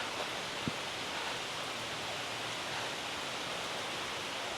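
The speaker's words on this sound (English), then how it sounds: "It's pouring down rain." Heavy rain pours steadily outdoors near a waterfall at Issaqueena Falls, a dense, constant broadband hiss with no variation and no voices, the roar of water filling the whole scene.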